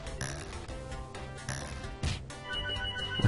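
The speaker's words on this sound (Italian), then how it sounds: "Suona il telefono." A telephone ringing in the Flash game Save My Shadow, a bright repeating electronic ring with clinking accents running steadily for a few seconds, no voices.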